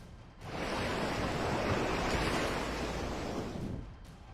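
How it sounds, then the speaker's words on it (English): Huge waves crash against a Spanish pier in one long, loud roaring surge that swells in, holds for about three seconds, then fades, with wind rushing over the microphone. "The waves crashing against this Spanish pier are quite impressive in size."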